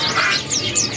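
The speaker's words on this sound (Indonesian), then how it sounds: "Nah, seperti ini kan kawan pilihan burung pleci Montanusnya." Mountain white-eye songbirds chirping at a bird market, a quick run of thin, high, sweeping tweets overlapping one another, continuous and fairly close.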